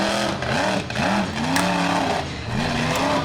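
Smashosaurus monster truck freestyling at a Charlotte monster truck show, its engine revving and surging in loud, rising and falling roars with brief dips between bursts of throttle.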